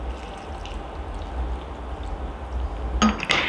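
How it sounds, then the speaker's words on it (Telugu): Water is poured into tamarind pulp in a kitchen while a gongura and brinjal curry is being made: a continuous, close liquid stream, ending with a couple of sharp clinks of a vessel. "వాటర్ పోసేస్తున్నాను"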